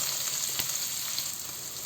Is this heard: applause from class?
no